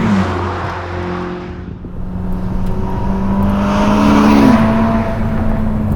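Ferrari SF90 Stradale, a 986 hp all-wheel-drive hybrid V8 road car, loud and close as its engine revs, dipping briefly then rising in pitch and holding a strong drone, with no talking over it.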